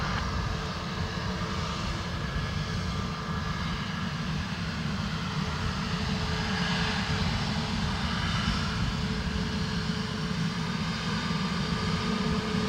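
An Emirates Boeing 777 from Dubai lands on runway 28L at Dublin Airport in rain and crosswind, its engines a steady, continuous roar heard from a distance throughout.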